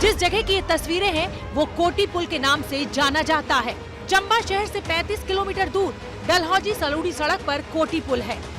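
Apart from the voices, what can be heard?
No distinct noise like a dog, phone or traffic.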